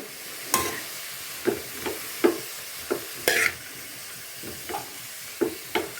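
Fenugreek leaves frying in a tempering of hot oil, with a soft, steady sizzle under a run of sharp spatula scrapes and taps against the pan, about eight strokes spread across the stretch.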